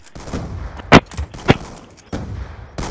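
Gunfire in the game Black Ops 2: a couple of sharp, close shots about half a second apart, rising over a lively background of game noise and movement.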